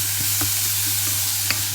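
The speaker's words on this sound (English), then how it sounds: "now add my onion and my garlic. Okay, now just stir just a little bit so the onion becomes" Onion and garlic sizzle in warm oil in a pan before rice goes in, a soft continuous fry broken by several light scraping stirs and a small clink near the end, with no voices.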